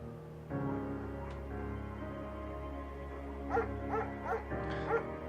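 A German Shepherd in the video game Firewatch gives several short whimpering yips over a steady, droning musical backdrop, with the cries clustered near the end.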